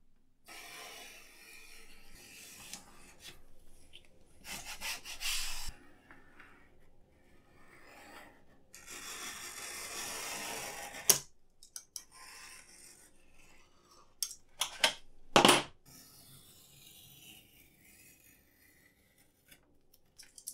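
Tape is sliced and peeled along the border of a custom glass panel for a PC case, heard as close, irregular scraping and rasping strokes with sharp snips and quiet gaps between them.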